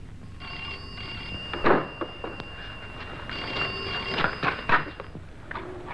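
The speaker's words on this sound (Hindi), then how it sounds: "टेलीफोन।" A telephone in a 1963 Hindi film rings with a bright, steady electronic trill, pausing briefly and resuming, fairly close and clear with no one speaking.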